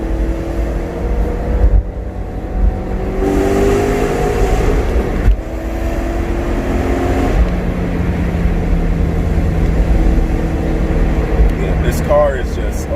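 A BMW E92 M3 fitted with a BimmerWorld X-pipe exhaust roars past, its engine note rising and falling through several pulls, while people talk nearby over the loud, continuous car sound.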